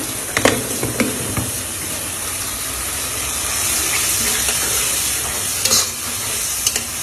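Bottle gourd curry with shrimp being stirred in a pan, a steady sizzle of frying under scattered scraping knocks of the spoon against the pan.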